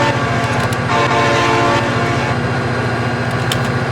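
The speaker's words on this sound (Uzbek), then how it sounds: "Sani esela signal chaladi." A train in the BeamNG video game sounds its horn in a sustained, loud tonal blast over the rhythmic chugging and rolling of the moving train, continuous and close throughout.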